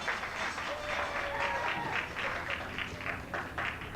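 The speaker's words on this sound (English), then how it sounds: "How about a round of applause for Splash and the Giraffes?" Audience applause at a 1986 water ski show at Six Flags Atlantis, a dense, steady wash of many hands clapping outdoors, moderately distant, with a faint crowd murmur and a brief tonal sound near the start.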